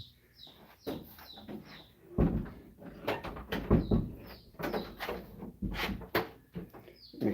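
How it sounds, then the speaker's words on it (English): Door being shut and latched in the unfinished side of a basement, with a series of knocks and clicks and rattling handling noises, while chicks chirp softly and steadily throughout. "Make sure that door latches"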